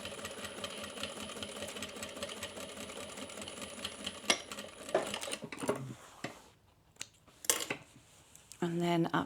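A sewing machine back stitches along the bottom edge of a crossbody bag. A close, steady mechanical whir runs for about five seconds, then gives way to scattered clicks and handling clatter, with brief bursts of stitching.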